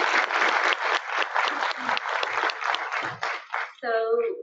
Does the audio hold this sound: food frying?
no